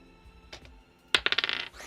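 Dice rolling on a desk: after a faint earlier tap, a close burst of bright, rapid clacks bounces and tumbles, gradually slowing as the dice settle.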